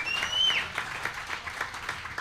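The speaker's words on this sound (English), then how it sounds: "Big applause." A studio audience at a sports talk show applauds, a short, moderately loud burst of clapping with no one speaking over it.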